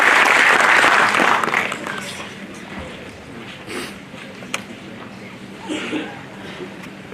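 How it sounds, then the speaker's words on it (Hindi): Audience applause at a Bihar home guard and police event, welcoming Director General of Police Gupteshwar Pandey; loud, dense clapping at first that fades within two seconds into quieter crowd murmur and scattered sounds. "जोरदार तालियों से हम सब स्वागत करें।"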